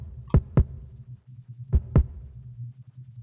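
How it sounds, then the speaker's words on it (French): A soloed kick drum with reverb on the sustain and light saturation on the attack: four deep, punchy thumps in two close pairs, each with a short rumbling tail over a low hum. "je vais mettre mon kick en solo"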